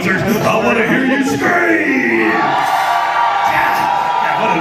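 A loud crowd at a live theme-park show shouts and whoops continuously, cheering voices blending into a steady roar with a few higher yells rising above it.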